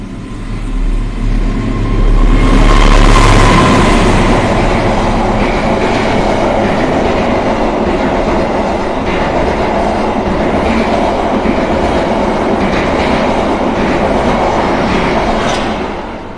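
A train rumbles past close by, loud and steady with rhythmic clatter of wheels on track, swelling early and holding for several seconds.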